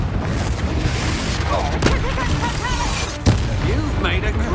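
Confringo blasting spell from the Hogwarts Legacy video game, booming explosive hits over a constant rumble of combat, with two sharp cracks standing out and voices talking throughout.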